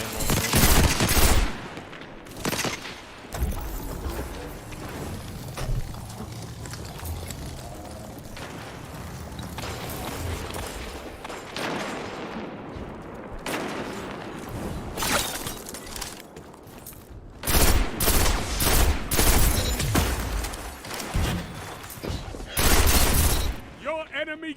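Gunfire from the video game Destiny, with dense bursts of rapid shots and heavy blasts coming in clusters, loud and close, separated by quieter stretches, while a voice talks now and then.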